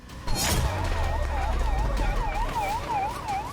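Fire brigade and police vehicles arrive at a fire caused by a gas cylinder blast, their loud sirens wailing in a repeating rise and fall over a low engine rumble.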